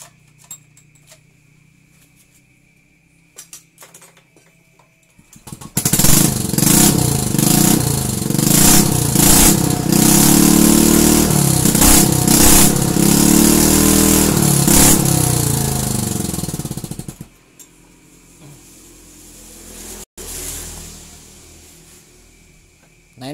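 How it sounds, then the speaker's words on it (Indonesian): A motorcycle engine with a leaking exhaust starts up and runs for about twelve seconds with a rough, popping, sputtering exhaust, loud and close, then cuts off to near silence. "terdengar suara knalpot yang bocor ya"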